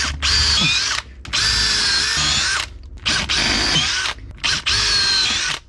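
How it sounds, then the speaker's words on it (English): A power drill whirs loudly in several bursts while drilling screw holes for through-hull fittings on a wooden boat, each spinning up and cutting off with short pauses between, the motor pitch shifting as the bit bites in. "Peter, just drill a pretty hole and put a screw in it"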